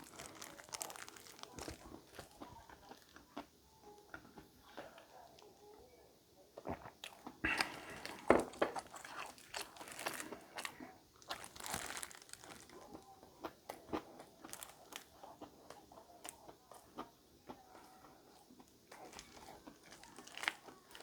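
Toast with ham is bitten and chewed close to the microphone, with soft crunches and crinkly chewing at a quiet level and brief faint murmurs between bites.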